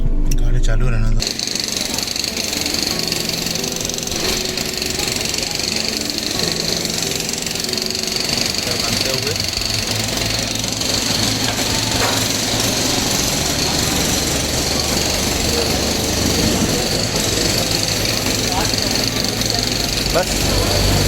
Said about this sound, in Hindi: गाड़ी चालू रहना दो।